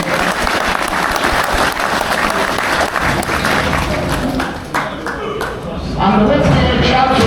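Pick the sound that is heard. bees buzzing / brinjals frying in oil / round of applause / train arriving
round of applause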